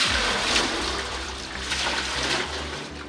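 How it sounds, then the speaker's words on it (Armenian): Muddy floodwater being scooped and bailed out of a clay tonir bread oven in a yard after a mudflow, a continuous close sloshing and pouring rush with no voices. "առավոտյան 7-ից բակի թոնրից ջուր է հանում"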